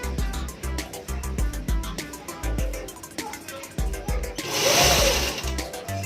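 A sewing machine stitches dori piping onto fabric in rapid rhythmic bursts of needle clatter, pausing briefly between runs, then a louder whirring spell near the end.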